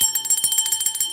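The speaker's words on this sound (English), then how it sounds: "Let's give some bell ringing for Fran." A bell rings repeatedly in quick, even strokes for about a second, loud and bright with sustained high tones, as a cheer during a livestream; no talking over it.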